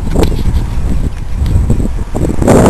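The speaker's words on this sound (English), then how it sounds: "A bit windy, as it always seems to be down here in Bluff." Strong gusty wind at Bluff, New Zealand, buffets the microphone with low rumbling roars, steady and loud throughout, swelling harder near the end.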